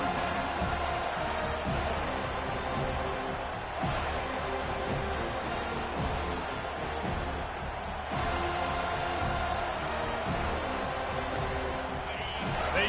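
A stadium crowd cheers in the college football video game NCAA 25, a steady loud roar with bursts of noise that continues for the whole stretch beneath commentary.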